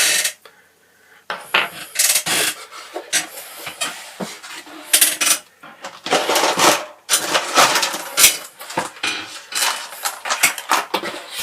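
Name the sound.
screws being removed from a tablet logic board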